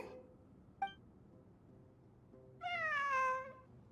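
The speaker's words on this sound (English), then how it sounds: "A cat? I think there was one earlier, too. I'm not hearing things. It really is a cat." A cat meows in Genshin Impact, first as a short faint chirp and then as one clear, drawn-out meow against quiet background ambience.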